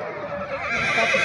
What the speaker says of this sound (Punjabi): ਅੱਛਾ ਅਮਜਦ ਭਾਈ, ਘੋੜੀ ਦੀ ਕਿੰਨੀ ਉਮਰ ਹੈਗੀ ਇਸ ਤਾਂ?